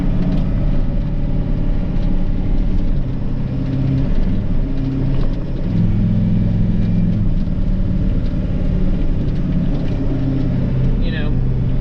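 International 4700 truck driving along with its turbo spooling up, a steady engine drone and low rumble throughout, with a rising whine near the end; a voice talks over it.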